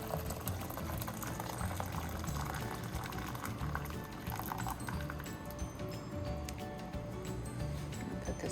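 Water heating in a kettle for hummingbird sugar water, a steady bubbling, churning hiss that runs continuously at moderate level, close by, with no talking over it.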